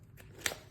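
A quick snip of scissors trimming paper, a single short crisp cut, faint and close, in an otherwise quiet moment.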